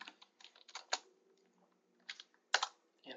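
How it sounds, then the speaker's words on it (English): Keys clack on a computer keyboard during a CAD drafting session, bursts of quick taps separated by short pauses, close and fairly quiet with no talking. "So I'm just going to type 2x4 type C inlet"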